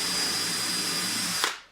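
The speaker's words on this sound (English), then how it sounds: "I use a drill bit for a pilot hole that's going to match up pretty well for this 2-inch screw" A power drill bores a pilot hole in the wood of an owl nest box, a steady close whine that holds for over a second before a brief bump and a quick spin-down to silence.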